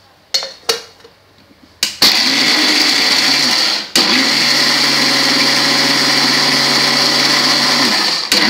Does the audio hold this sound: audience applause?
no